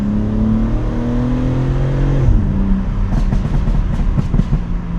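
A BMW M3 engine drones at steady revs while driving, then the pitch drops and a series of sharp throttle blips and rising revs follow, loud and close.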